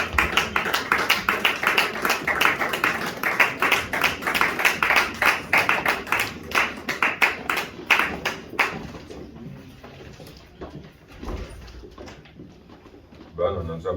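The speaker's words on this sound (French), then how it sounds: "applaudit très très fort pour la gloire de notre Dieu" Loud, dense applause fills a church service, a steady wash of clapping that thins out after about nine seconds into scattered claps and murmuring voices.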